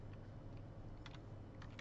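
A computer keyboard is being typed on during a typing lesson: a few faint, quick key clicks in two small bursts over a constant low room hum, with no talking.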